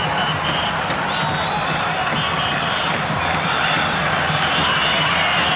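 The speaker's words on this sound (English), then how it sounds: "The crowd applauding any decent move by the Spanish side." Spanish supporters at the 1996 Futsal World Cup final against Brazil keep up a steady, even roar of clapping and crowd noise, dense and continuous throughout.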